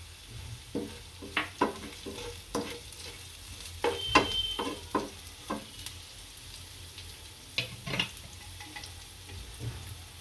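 Cumin seeds sizzle in hot oil alongside green chilies and mustard seeds for aloo bhujia, a low steady fry broken by sharp irregular pops and spoon clicks against the pan, no talking.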